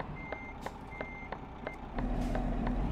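A truck in a truck-driving video game set in Greece sounds a series of evenly spaced reversing beeps, faint and regular, over a low engine drone that grows louder near the end.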